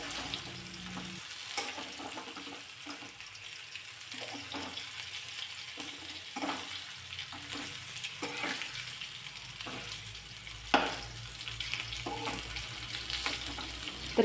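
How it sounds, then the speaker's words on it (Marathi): Stuffed brinjals frying in oil in a pan over a low flame, giving a continuous close sizzle and crackle, broken by occasional soft clinks and stirring scrapes. "अशा पद्धतीने सगळ्या बाजूने व्यवस्थित छान अशी वांगी भाजून घ्यायची तेलामध्ये"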